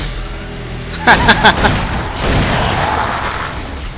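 Flares bursting against enemies in the video game Alan Wake: a few sharp popping bursts in quick succession, followed by a sustained hissing, crackling burn, loud and close over low game ambience.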